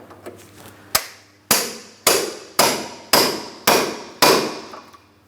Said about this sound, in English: I'm going to start tapping on my pickle fork and attempt to separate this.